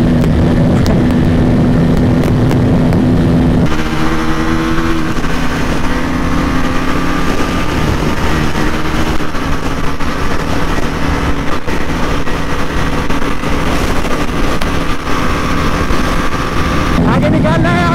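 A Husqvarna 250 and a Honda CBR 250 drag race side by side, loud sustained engine drone with shifting tones as they accelerate away, someone talking over it.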